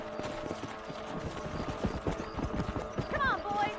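Horse hooves clip-clopping in the Red Dead Redemption video game, a fast steady rhythm of close hoofbeats with a brief whinny near the end.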